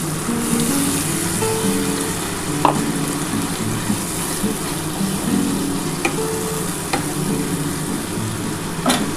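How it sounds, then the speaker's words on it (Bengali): Mustard paste water poured into a pan of sizzling hilsa fish curry with green chillies, giving a steady close frying hiss with stirring and a few sharp clicks of utensils throughout. "আমি এই সর্ষে বাটার জলটা দিয়ে দিলাম"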